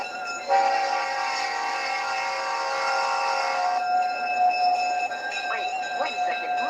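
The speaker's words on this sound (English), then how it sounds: "There's the horn for you in case you're interested." A CP Rail locomotive horn sounds in the Roblox train game, a loud sustained multi-tone chord blaring for about three seconds, then a softer horn tone lingers with rail noise and faint whistling squeals.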